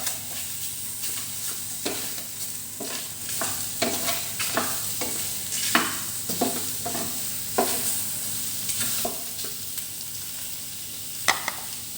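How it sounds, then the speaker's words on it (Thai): Catfish pieces stir-fried in a pan with fresh chilies for a Thai dish: steady sizzling under repeated scraping strokes of a spatula, close and fairly loud, with no talk. "คั่วหอมได้ที่แล้ว ใส่ปลาดุกลงไป"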